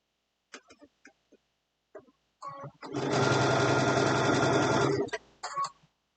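A sewing machine stitches an Easter basket in a circle, a loud steady whir lasting about two seconds, with scattered clicks and handling before it and a short burst of stitching afterward.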